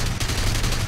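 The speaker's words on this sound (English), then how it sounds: "These BF-109s have really powerful cannons." A BF-109 fires its 20mm cannons in War Thunder, a rapid, loud, continuous stream of heavy thuds at close range with engine roar underneath.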